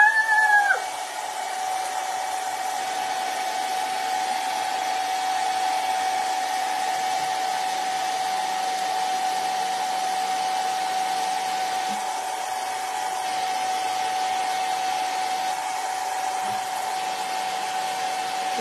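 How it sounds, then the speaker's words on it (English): A blow dryer drones steadily for the whole stretch, blowing to dry ink during a craft project, a loud constant whir with a sustained whine that briefly shifts near the start and around the midpoint. "Let's turn the blow dryer on and get this off."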